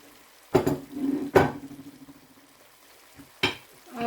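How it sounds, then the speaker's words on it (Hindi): Onion, garlic and ginger are dropped into a pan with browned nihari base and begin frying: three separate sizzling bursts, each fading quickly, with quiet stirring between them and no voices. "इस टाइम हम इसमें प्याज और लहसुन अदरक शामिल कर देंगे।"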